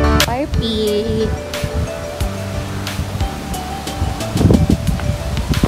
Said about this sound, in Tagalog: Grabe lang yung hangin, parang papagyo na.